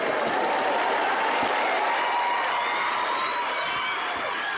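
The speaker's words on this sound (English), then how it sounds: "Rapturous applause" A large tennis crowd at the 2000 New Haven final between Seles and Williams bursts into rapturous applause, a dense, sustained roar of clapping with scattered cheers and whoops that holds steady throughout.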